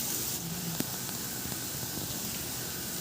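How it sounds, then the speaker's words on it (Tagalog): Garlic sautéing in hot oil in a pan, a steady close sizzle with faint hiss and a few small pops, heard alone. "Magpainit na ako ng mantika sa kawali at igisa ko na rin yung bawang."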